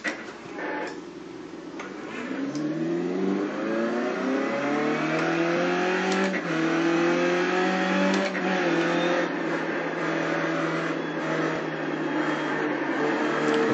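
A car engine in a racing video game revving up through rising tones, then holding a steady, droning pitch with small shifts, loud and close throughout.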